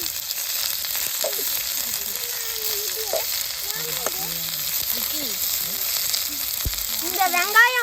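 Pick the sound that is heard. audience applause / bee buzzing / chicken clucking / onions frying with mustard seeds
onions frying with mustard seeds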